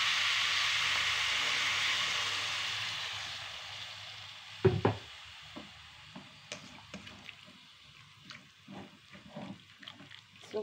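Water poured into a hot pan of beef cooking for black pepper beef, opening with a loud hiss that fades away, then scattered soft clinks and bubbling as the pan settles.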